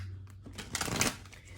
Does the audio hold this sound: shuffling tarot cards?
yes